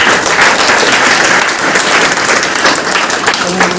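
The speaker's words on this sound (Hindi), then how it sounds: "एक बार अपने लिए जबरदस्त ताली बजाते।" Loud, dense applause from a large crowd at a DXN business meeting in Basti, continuous clapping sustained throughout at close range.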